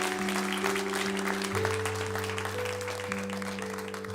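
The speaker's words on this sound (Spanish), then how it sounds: "Denle un fuerte aplauso al Señor." Applause from a church congregation, a steady wash of clapping hands under a sustained organ or keyboard chord that shifts pitch partway through.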